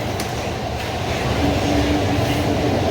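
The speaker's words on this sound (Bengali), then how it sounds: "নেমে আবার একটা ট্রেন ধরেছি হাওড়া যাওয়ার জন্যে।" Metro train running through the tunnel under the Ganges toward Howrah, a steady loud rumble of wheels and carriage noise with a faint high whine, continuous throughout.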